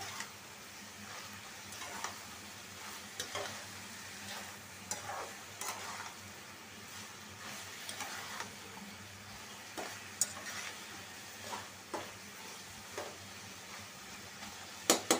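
Boiled red amaranth stalks are stirred together with tomato in a pan on the stove, bringing a soft, low sizzle and a regular series of light scrapes and taps from the spoon, quiet and without any voices.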